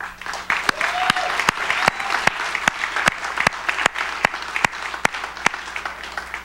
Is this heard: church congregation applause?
yes